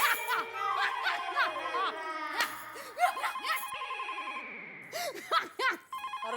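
A telephone rings repeatedly with a bright electronic trill, mixed with busy background sounds and bursts of laughter, fairly close.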